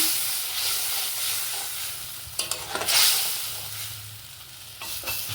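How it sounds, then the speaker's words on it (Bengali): A spoon stirs egg curry in a pan with water, a whole green chilli, turmeric and black pepper, giving steady sizzling and hissing with scraping stir strokes and a brief louder burst midway, no voices. "তো এই যে এটাকে ভালো করে নাড়তে হবে।"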